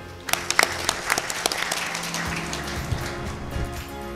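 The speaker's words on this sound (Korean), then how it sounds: "뜨거운 박수로 모시겠습니다" An audience at a Korean business seminar on the Indian market applauds to welcome a speaker, a dense, steady burst of clapping that starts sharply and holds fairly loud throughout, with no talk over it.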